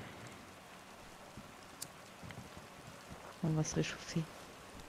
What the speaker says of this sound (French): au moins, il pleut